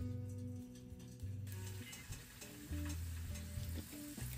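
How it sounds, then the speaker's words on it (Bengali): Rice-cake pithas for a Bengali winter sweet treat drop into hot oil and sizzle; a steady frying hiss swells as they go in, with a clatter of utensils and low background music. "তেল গরম হয়ে গেছে, এবারে একটা একটা করে ছেড়ে দেখি"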